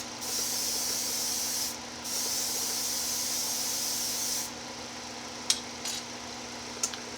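A spray can hisses in long steady bursts, one brief pause, while painting an AMT Dodge Coronet model kit, followed by quieter light taps and clicks.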